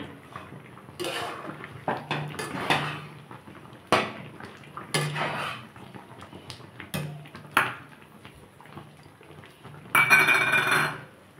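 A metal spoon stirs fried, ground five-spice into plum pickle in a pan, making irregular clinks and scrapes against the pan with a brighter rattle near the end.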